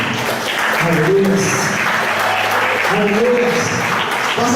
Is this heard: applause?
yes